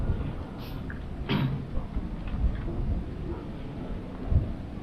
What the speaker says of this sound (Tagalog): Lumalakas na ulan bro.